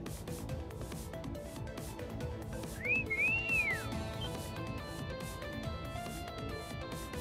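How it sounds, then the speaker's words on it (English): A clear, rising-and-falling whistle from the video game Trails of Cold Steel 3, sounding once for about a second over steady background game music. "That whistle"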